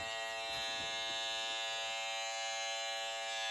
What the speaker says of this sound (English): since this clipper has a T-blade, that little edge you're going to use